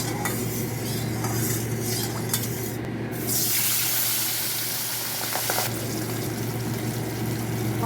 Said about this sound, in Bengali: মাছগুলো ততক্ষণ ভাজতে থাক